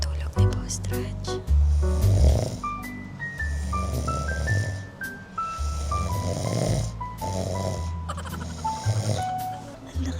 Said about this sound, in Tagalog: Ang lakas ng hilik niya